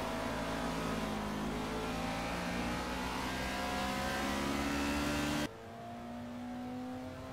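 A Caterham R500 engine in Project Cars revs loudly and steadily, its harmonics climbing through the gears, then the tone drops sharply near the end as the throttle lifts and the engine settles to a lower hum.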